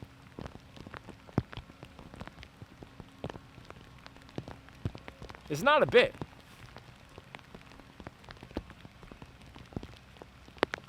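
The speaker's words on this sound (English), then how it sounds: "And I'm getting rained on." Rain patters lightly and steadily on surfaces outdoors, with scattered individual drops and a brief burst of speech partway through.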